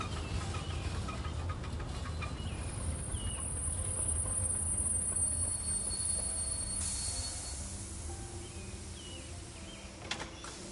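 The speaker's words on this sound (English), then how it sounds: "Get on the train. Woo woo!" A train in the farming video game Hokko Life rolls along with a steady low rumble and faint wheel squeals, set against a constant chirping cricket ambience.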